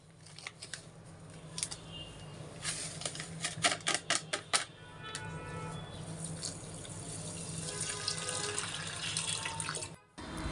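Water streams from a tap onto lentils soaking in a bowl during haleem preparation, with a run of sharp clicks and splashes midway, then a steady pour that stops briefly near the end.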